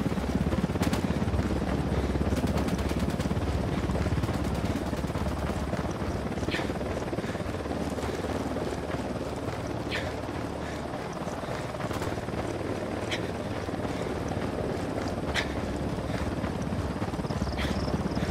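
A helicopter's steady, loud rotor roar in Ghost Recon Wildlands fills the whole stretch, continuous and close, with faint voices and occasional clicks beneath it.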